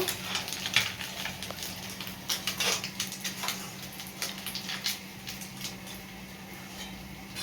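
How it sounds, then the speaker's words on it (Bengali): Morola fish fry in hot oil in a home kitchen, a soft continuous sizzle under a steady hum, with scattered scraping and clinking from a spatula against the pan, fairly quiet throughout. "এরকম করে সব মাছ কটা আমি ভেজে নেব।"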